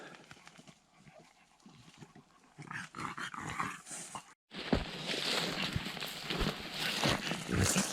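Dogs roaming a mossy forest on a mushroom-picking walk, with rustling, scattered paw and movement noises and brief snuffling close by, growing busier and louder in the second half; no talk.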